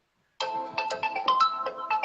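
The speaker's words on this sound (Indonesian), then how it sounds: "aduh nih Mas Timi telepon." A mobile phone ringtone plays for an incoming call: a clear electronic melody of repeated short chiming notes that starts abruptly and carries on steadily and fairly loud, with no talking over it.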